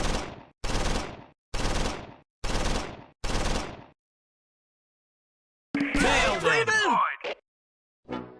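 Medium machine gun fire from Close Combat 4, the Battle of the Bulge at Wiltz: five loud, evenly spaced bursts, then a pause and a short, harsher clatter of fire with a brief echo trailing behind. No one speaks over it.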